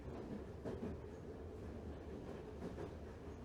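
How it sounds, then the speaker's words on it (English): Train cars rolling along the rails with a steady low rumble and faint rhythmic clatter, continuous and moderately close, no voices. "back on the train."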